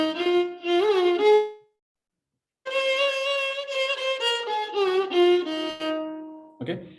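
A solo voice sings the ascending and descending scale of the Carnatic raga Chittaranjani, clear sustained notes stepping up, a short pause, then a longer run of held pitches stepping back down, close and unaccompanied.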